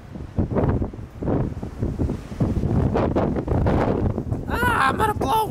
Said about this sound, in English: You guys see how windy it is?